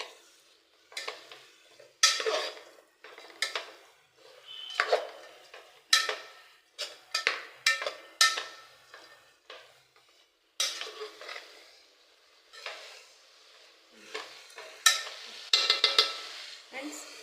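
Grated coconut being stirred into a green bean stir-fry (huruli kayi palya) in a pan, with repeated scraping and clinking strokes of a spoon against metal in uneven bursts, close and fairly quiet, no talk.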